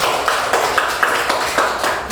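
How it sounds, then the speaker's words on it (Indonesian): A class group claps for the first group's presentation, a bright burst of hand claps with sharp accents falling at a fairly regular beat, close and moderately loud. "tepuk tangan untuk kelompok satu"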